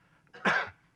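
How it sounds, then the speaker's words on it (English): A lecturer gives a single short, fairly close cough in a quiet room. "And pardon my cough"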